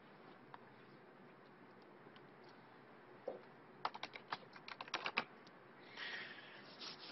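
Keys clatter on a computer keyboard as a password is entered for an SSH login, starting with a few isolated taps, then a quick run of soft, close keystrokes, quiet against a faint steady room hiss.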